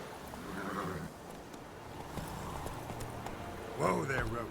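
Roach, a horse in The Witcher 3, clip-clops with steady hoofbeats under a game soundtrack, then gives a short whinny near the end; a voice talks over it.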